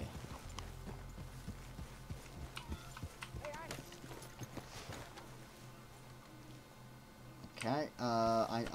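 Horse hooves clip-clopping at a steady riding pace in the video game Red Dead Redemption 2, a repeated rhythmic knocking at moderate distance mixed with game ambience, ending in louder sounds near the close.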